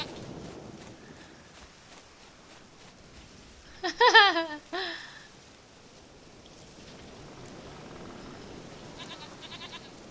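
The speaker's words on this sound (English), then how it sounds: "Stupid goat." A goat in The Witcher 3 video game gives a short series of loud, close bleats amid a soft rainy ambience, with faint higher calls near the end.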